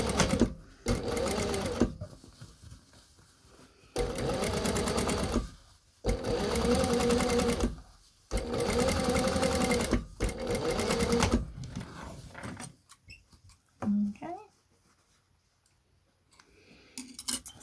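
A sewing machine topstitches the lining of a fabric face covering with a filter pocket, running in four loud sustained bursts separated by short pauses, then going quiet apart from a brief thump and faint handling near the end.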